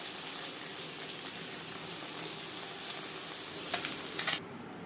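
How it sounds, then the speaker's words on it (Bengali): Puti fish fry in oil in a wok with a steady, close hiss of sizzling, swelling briefly near the end before dropping away, and no one speaking. "প্রথমে একটু অল্প করে ভেজে নিলাম কারণ প্রথমে কড়াই তাপটা ঠিকঠাক থাকে না"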